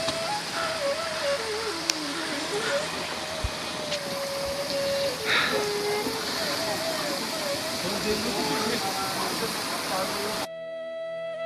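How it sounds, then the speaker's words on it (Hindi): Heavy falling water from Vasudhara waterfall near Mana village pours down like a downpour, a loud steady roar that fills the whole stretch, with voices heard faintly underneath before the sound cuts off at the end. "ये देखिए कितनी जोर से पानी गिर रहा है यहाँ पे।"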